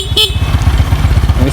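A tractor bike's electric starter cranks on a weak battery, giving a loud, close, steady rhythmic chugging throughout, with a short high tone near the start.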